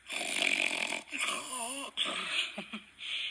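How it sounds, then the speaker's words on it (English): Rough, raspy snoring breaths repeat in a slow, uneven rhythm, close and fairly loud with short pauses between them. "He also snored."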